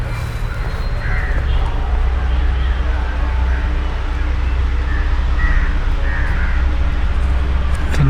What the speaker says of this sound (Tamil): திடீர்னு காக்காலாம் கத்துது குவான்னு.